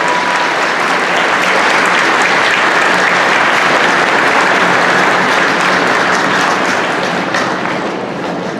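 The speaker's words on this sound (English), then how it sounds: "Can we get a round of applause for all of the veterans, your veterans, that we honor today." Sustained, loud applause from a school convocation audience honoring veterans at a Veterans Day ceremony, a dense steady roar of many hands clapping for over eight seconds with no talk over it.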